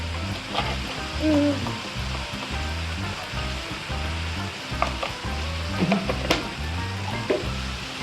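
Steady sizzling and crackling of dried fish frying in a hot pan, close and constant, with occasional scraping stirs over a low hum.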